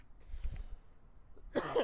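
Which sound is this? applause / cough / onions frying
cough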